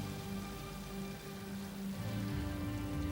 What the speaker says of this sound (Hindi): राधा, वो बरसात में नीचे खड़ा भीग रहा है।